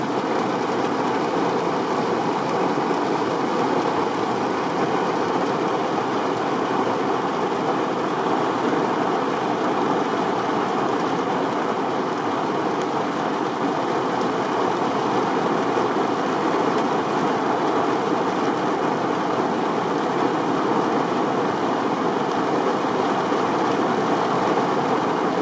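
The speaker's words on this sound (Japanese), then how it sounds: "雷鳴ってる？" Heavy downpour drums steadily on a car's roof and windows throughout, heard from inside the vehicle during a storm, a dense continuous hiss with no distinct thunder crack standing out.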